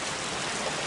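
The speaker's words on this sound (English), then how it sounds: "obviously it's raining outside, everything's wet" Steady rainfall in the Roblox game Bloxburg, an even, continuous hiss of falling rain on wet surfaces outdoors, moderately quiet and unbroken for the short moment.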